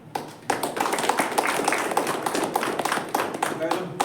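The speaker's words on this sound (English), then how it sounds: "Guys, a big round of applause for Dolly" Room of people clapping after a speaking club evaluation report, a steady close patter of many hands starting abruptly and continuing evenly, with voices audible underneath.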